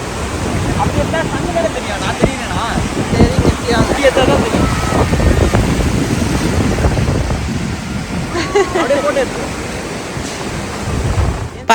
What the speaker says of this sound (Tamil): அழகாக வந்து அலை வந்துகிட்டே இருந்துச்சு